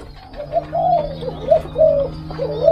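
Doves in a breeding aviary of young and juvenile birds coo in soft repeated rolling phrases, several calls in a row, close and clear over a low steady hum.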